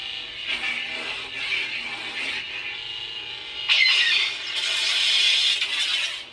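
Electronic humming and swooshing tones from a custom lightsaber hilt with a Proffieboard v2 and custom sound fonts, steady with a surge and brighter crackling hum midway, close and fairly loud, no talking.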